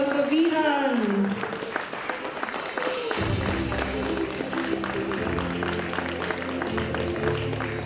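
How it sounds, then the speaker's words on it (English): Parents applaud a playgroup child at a kids' annual day award ceremony, scattered clapping that soon runs under loud background music, with some voices mixed in. "A huge round of applause for Vihan."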